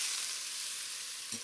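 Shrimp fry in bacon fat with a steady, close hiss of sizzling grease and one soft knock of a utensil near the end.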